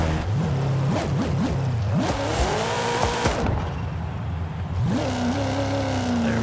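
A Buick Regal GNX engine in Forza Horizon 5, braked with the e-brake and revving hard. It climbs and drops in loud repeated surges with tire squeal, then holds a high sustained rev near the end.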